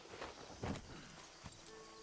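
Horse hooves walk in Red Dead Redemption 2, a few soft clip-clop steps at moderate distance over a low game ambience, with a stronger thud partway through and another near the end.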